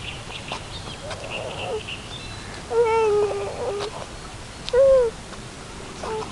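Two distinct duck quacks ring out on the shore of Lake Balaton, one near the middle and one just after, over faint outdoor background.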